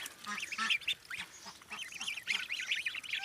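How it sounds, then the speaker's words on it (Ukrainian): A flock of ducklings and goslings peep and quack continuously, high-pitched chirps overlapping in a busy, close chorus. "Виношу каченят гусенят."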